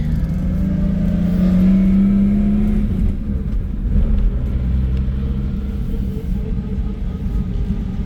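A 1967 Ford Mustang coupe pulls along in first gear at about 20 miles an hour, its engine a steady, loud low rumble close by, with a brief swell of revs early on and no talk.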